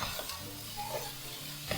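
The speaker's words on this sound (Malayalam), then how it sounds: "ഇത് കൂടെ ചേർത്തിട്ട് നല്ലപോലെ ഒന്ന് വഴറ്റി കൊടുക്കാം." Spice masala sautés in oil in a pan for a Malabar king fish biryani, a close, continuous sizzle with soft stirring scrapes and no talking.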